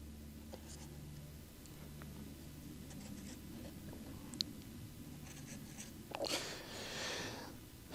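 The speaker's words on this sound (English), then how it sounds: "So I'll mark the 4 corners." A pencil scratches short marks onto a plywood board at each corner, faint and close, with a few brief strokes against a low steady background hum.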